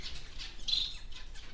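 A Bengalese finch gives a few short, sharp squawks close by, brief high calls over a faint background hum.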